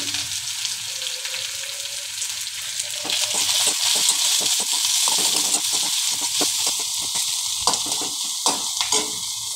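Chopped cabbage and chilies sizzle steadily in a hot pan while onion fries alongside, the crackling hiss growing louder midway with a few sharp spits and stirring clatters near the end.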